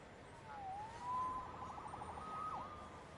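Police sirens in the Marvel's Spider-Man video game, a wailing siren rising and falling at moderate distance over a low city background hum, with no talk.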